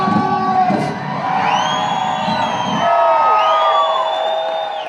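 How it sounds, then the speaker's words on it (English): Crowd cheering and whooping at a large Austin, Texas bike rally with over 100,000 spectators, a loud continuous roar of voices with shouts rising above a sustained noisy backdrop. "Austin, Texas, make some noise!"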